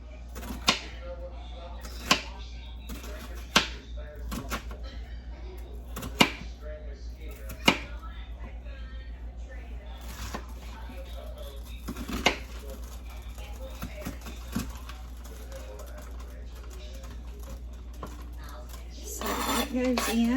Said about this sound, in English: I have half of an onion here, and I'm just going to cut it up and saute it with that pepperoni